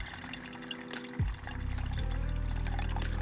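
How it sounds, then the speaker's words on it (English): Tap water running into a sink to rinse dirt off sapphire gravel, a steady rushing stream that swells louder partway through and continues, close, with no talk. "put it in the sink and wash it off a little bit more."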